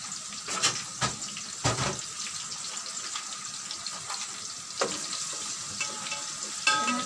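Meat with spice paste sautéing in a pan makes a soft, steady sizzle close by, broken by sharp clinks and scrapes of a spoon stirring at irregular intervals.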